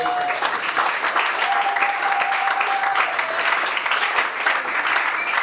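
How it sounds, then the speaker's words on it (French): A church congregation at a women's convention applauds loudly and steadily for several seconds, a dense wash of clapping filling the hall, with a faint sustained tone running underneath. "nous acclamons très fort"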